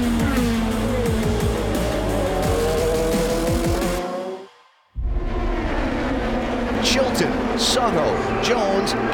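IndyCar race cars running at full throttle on a racing circuit, loud high-revving engines with shifting pitch, a brief dropout, then more engine roar and tire noise, with a commentator talking over it.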